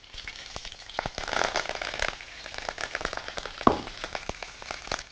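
Curry leaves tossed into hot oil already tempering urad dal and mustard seeds, a fast irregular sputtering crackle with sharp pops, close and moderately loud, no talking.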